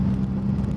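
A 2003 Saab 9-3 manual with a Stage 1 tune and an aftermarket straight-piped exhaust produces a deep, loud, steady idle rumble that stays close and constant.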